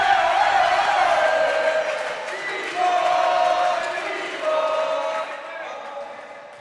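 Crowd cheering and shouting in an indoor arena during a men's singles racquetball world championship match, a loud sustained roar that swells and dips in waves, with whistles and voices rising over it.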